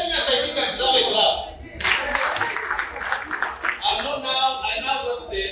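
Audience clapping at an installation dinner of club officers, a short burst of applause breaking out midway between stretches of someone talking, moderately loud and close.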